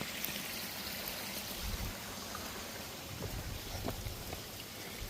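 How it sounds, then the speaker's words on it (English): A small outdoor waterfall pours into a lake, giving a steady, broad rushing wash of water that stays fairly soft and even throughout, with no voices. "Another nice little waterfall."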